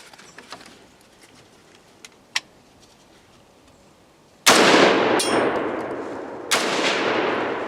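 Gunshots fired at a wild hog during a nighttime hunt in Mississippi: faint scattered ticks give way to one loud sharp blast, followed by a long rolling echo and a second report about two seconds later.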